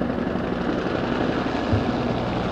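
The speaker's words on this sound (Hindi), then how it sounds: "कोबरा अटैक हेलीकॉप्टर्स की फॉर्मेशन" A formation of Cobra attack helicopters from an army aviation combat squadron passes overhead at a Pakistan Day air show, a steady loud rotor and engine roar with no break.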